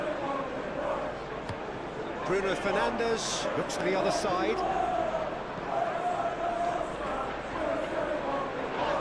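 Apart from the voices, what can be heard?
football crowd reacting in a Premier League simulation video game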